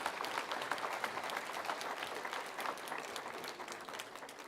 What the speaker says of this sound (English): a big round of applause to the entire organizing committee